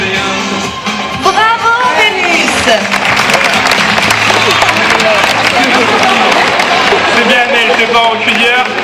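An audience claps at a sea lion show at ZooParc de Beauval, with sustained applause under loud amplified talk and occasional shouts from the crowd.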